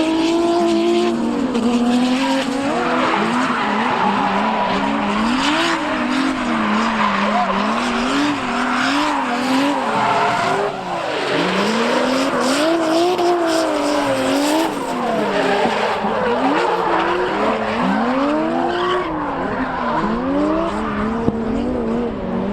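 A Toyota JZX90 drift car at a competition track screeches through long, wavering tire squeals over a loud, rising and falling engine, sustained and close for the whole stretch.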